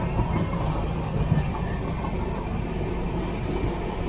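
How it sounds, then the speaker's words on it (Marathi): Mandovi Express festival special on the Konkan Railway gathering speed, a steady broadband rumble and rattle of the carriages heard from inside the train, continuous and fairly loud. "आस्ते आस्ते गाडी पिकअप करते आहे"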